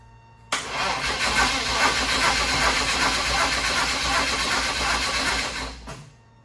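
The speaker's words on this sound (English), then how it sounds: "I just really want to know if the car will start." A turbocharged BMW E30 engine cranks steadily for several seconds on its first start attempt, a loud grinding starter whir that never catches, then cuts off abruptly.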